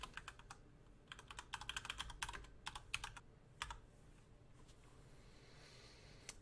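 Quick bursts of keystrokes on a computer keyboard as a type code is entered into a vehicle type record, clustered clicking followed by a quiet pause, close and clear with nobody talking.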